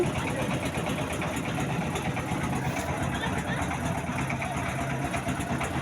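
A boat's engine idles steadily at a river crossing to a waterfall in Jaflong, Sylhet, a continuous close rumbling drone with water and ambient noise, while people talk over it.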